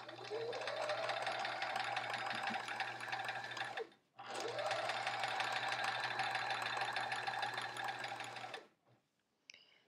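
Sewing machine stitching a quilt block seam, a steady fast mechanical whir running for about four seconds, a brief stop, then another long continuous run before it halts; close and clear with a low hum beneath.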